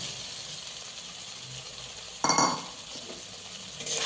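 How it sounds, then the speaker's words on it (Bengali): Fried potatoes tumble into a pan of cooked-down masala for a crab curry, a quiet hiss broken by a sudden clattering sizzle and a few clinks of a utensil against the pan. "ভেজে রাখা আলুগুলো মশলার মধ্যে দিয়ে দেবো"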